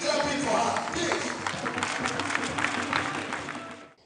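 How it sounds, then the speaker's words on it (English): An audience rises and keeps clapping for an honoured woman at a live event, sustained dense applause with crowd noise that holds steady and then fades out at the end. "I want you to all rise and let us keep clapping for this great idol in a woman"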